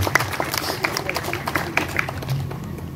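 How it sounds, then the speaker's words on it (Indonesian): An audience applauds at a ceremony for the founding of the MBS Muhammadiyah boarding school in Cilacap, with uneven, scattered hand claps, fairly close, and faint talk underneath. "Tepuk tangan untuk MBS."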